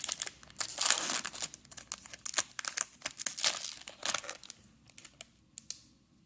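Crinkly plastic wrapper from a Magic: The Gathering Forgotten Realms collector booster is crumpled and pushed aside in a string of sharp, close crackles and rustles, easing off into quiet near the end.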